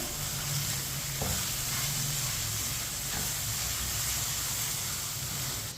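Chana dal and spinach sizzling and frying in a pan as they are stirred together, a steady close hiss with faint scraping, no talking.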